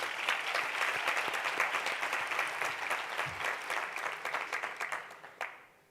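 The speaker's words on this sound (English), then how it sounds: "if I may ask a round of applause for the administration and the teachers" Sustained applause from the audience at a Les Roches hospitality school closing ceremony, honoring the administration and teachers; steady dense clapping that thins into scattered claps before stopping.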